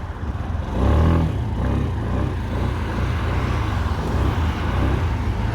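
A Suzuki Address 125S fuel-injected scooter engine runs steadily nearby with a low, continuous rumble that swells briefly, then settles into an even idle.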